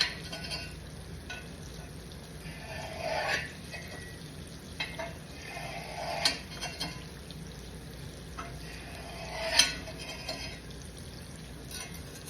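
Quiet sizzling of food frying in a pan, with occasional scraping stirs and clinks rising above the steady crackle.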